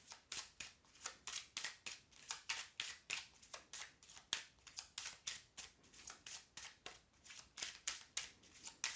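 A deck of tarot-style cards being shuffled and cut, a steady run of quick, crisp riffling slaps in close succession, near and fairly quiet, with no talking over it.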